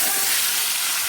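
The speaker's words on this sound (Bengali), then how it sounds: "ওই তেলেতে এই সবজিগুলোকে ভেজে নেব।" Vegetables frying in oil left over from fish, a dense continuous sizzle heard up close, loud and steady throughout a brief moment with no voices.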